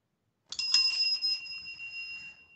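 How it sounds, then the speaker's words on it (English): A bright double bell chime used as a sound effect on a tabletop gaming podcast, ringing out clearly from silence with a sustained metallic ring that slowly fades. "that was the double bell"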